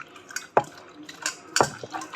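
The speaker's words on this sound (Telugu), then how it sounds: "సో కంపల్సరీ వాటర్ వాష్ చేసి తినాలి" Strawberries are rinsed in a bowl of water, with irregular splashes and sharp clinks from hands and dish, close and fairly loud.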